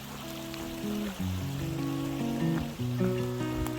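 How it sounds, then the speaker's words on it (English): Steady flowing creek water with a soft rushing texture, close by and continuous, on a trail between Davenport Gap and Max Patch, with faint tonal hum in the background; no voices. "The sound of the water is so nice."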